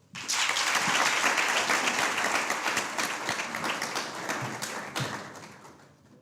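An audience at a moot court competition breaks into applause that starts suddenly, holds as dense, fairly close clapping for several seconds, then thins and fades out, with no voices over it.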